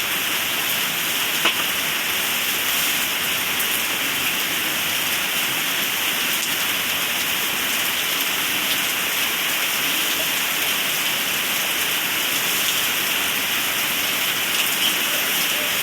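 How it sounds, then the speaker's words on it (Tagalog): Heavy rain pours steadily and loudly across the whole stretch, a dense unbroken hiss with no pauses, during a guava harvest outdoors. "Lakas ng ulan na naman"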